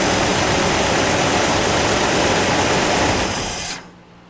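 Car engine running after a Seafoam treatment, a dense steady idle roar close by, then cut off abruptly near the end, leaving quiet.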